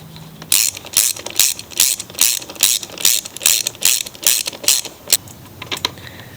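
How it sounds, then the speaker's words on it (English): Ratchet wrench tightening the 5/16 bolts of a lawn mower's air filter housing, about a dozen rapid clicking bursts in an even back-and-forth rhythm, loud and close, then a few slower clicks at the end. "So now let's put back on the air filter housing. Three bolts, 5/16."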